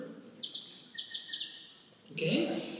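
Percussion instruments imitate a farm bird with a quick series of bright chirps and tweets followed by a fluttering call, faint and close.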